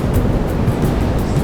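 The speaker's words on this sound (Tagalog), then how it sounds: "bali ngayon malalaki ang alon guys" Big ocean waves from a passing typhoon roar steadily around a fishing boat out at sea. The loud, continuous surf wash is mixed with wind noise, and no one speaks.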